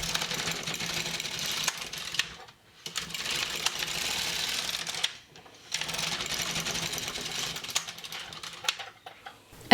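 LK150 knitting machine carriage sliding back and forth across the needle bed as rows are knitted, making loud, close mechanical rattling passes broken by brief pauses between rows.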